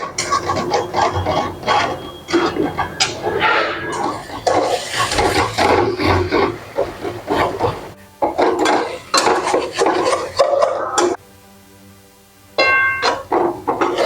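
Spice masala for a mixed vegetable curry is stirred in a pan, with loud irregular scraping and clattering of a spoon against metal, briefly going quiet before resuming.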